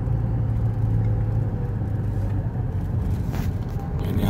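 Cars speed along a winding road on a mountain slope, a steady close rumble of passing traffic with rushing engine and tyre noise throughout.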